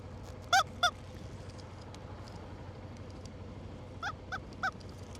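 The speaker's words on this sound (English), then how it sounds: "I'll squeak a chicken for you." A rubber chicken toy squeaks in two quick honking squeals, then three more a few seconds later, loud and nasal against a quiet low background hum.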